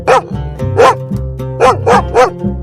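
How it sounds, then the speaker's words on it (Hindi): A dog barks loudly and close by, five sharp barks in two groups. A low steady drone runs underneath. "अरे ये कुत्ता कहां से आ गया?"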